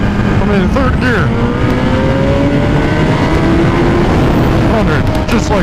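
A BMW S1000RR with a full Akrapovic exhaust and dyno tune accelerating hard on the road, its loud, close engine note climbing steadily in pitch over constant wind rush.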